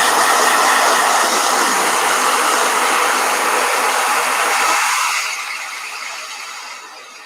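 A blow dryer runs close and loud with a steady high whir, then winds down and fades over the last couple of seconds.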